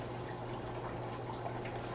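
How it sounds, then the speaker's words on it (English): Water pours and splashes continuously during an aquarium water change, a steady close rushing that runs unbroken for the whole moment. "Just doing some water changes."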